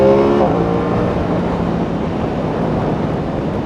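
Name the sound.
sport motorcycle engine accelerating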